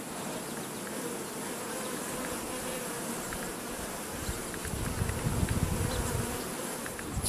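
Dense, continuous buzzing of many honey bees from an opened hive, close and steady, swelling slightly louder toward the end with no talk.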